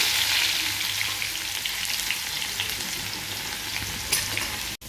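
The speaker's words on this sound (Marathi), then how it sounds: "छानपैकी तेल तापलेले आहे मोहरी घालूया जिरे घालूया त्यानंतर ठेचून घेतलेला लसूण" Mustard seeds, cumin and crushed garlic fry in hot oil, giving a loud, steady sizzle with bright crackling that holds nearly unbroken to the end before cutting off abruptly.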